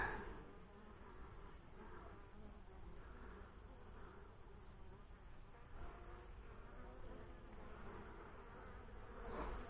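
Honey bees in an open beehive during an inspection, a steady, soft, continuous buzzing drone from many insects close by, with no talking.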